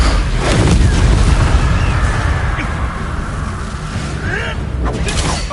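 A Bombarda spell blast in Hogwarts Legacy goes off as a loud, dense explosive roar that rumbles continuously throughout, with sharp bursts near the start and end and no talking.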